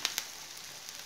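Lentil milanesas fry in a pan with a soft, steady sizzle and a few faint crackling pops, quiet and continuous with no voices.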